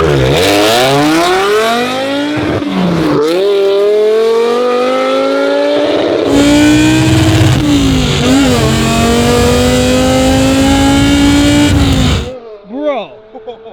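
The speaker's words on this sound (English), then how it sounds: "V10, ITB, all 10 cylinders, ripping." V10-swapped BMW E46 M3 with individual throttle bodies revving hard and loud, a rising and falling high-pitched wail across several pulls, close by, with excited voices speaking over it.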